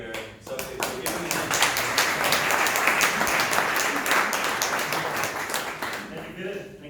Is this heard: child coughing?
no